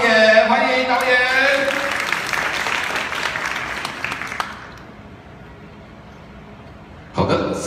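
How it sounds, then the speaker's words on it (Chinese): At a single-release press conference, an audience welcomes the single's producer and the MV director with sustained applause under a speaking voice. The applause then drops to near silence before a short, sharp burst returns at the end. "好，接下来掌声要热烈，这是我们的单曲制作人林尚德老师"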